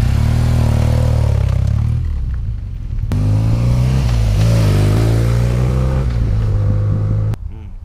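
A BMW R1200 GS motorcycle rides past, its engine loud and close as it approaches, dipping briefly, then roaring again before the sound cuts off abruptly near the end.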